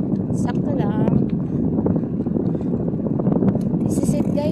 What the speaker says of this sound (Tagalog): At sobrang hangin pero sakto lang.